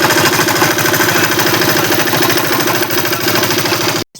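A large tractor engine idles in a farm field, loud and close with a steady rhythmic chug that cuts off abruptly near the end.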